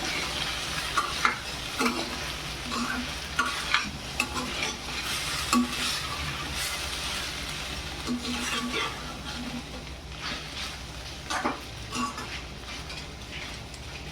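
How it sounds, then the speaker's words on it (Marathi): Pasta is stirred in a hot pan after salt goes in, a spatula scraping and knocking the pan in an uneven rhythm over a steady sizzle of frying. "लगेचच थोडं पुरतं मीठ टाकून घेऊ आणि व्यवस्थित ढवळून देऊ"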